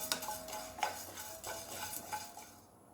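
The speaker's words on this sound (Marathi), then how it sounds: "सुरुवातीला धने आणि विलायची भाजून घ्यायचे आहेत चांगले गुलाबी परतून घ्यायचे आहेत" Coriander seeds and cardamom dry roasting in a pan without ghee, stirred with a spoon that scrapes and clinks against the metal every half second or so, with a faint crackle underneath.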